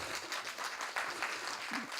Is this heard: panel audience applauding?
yes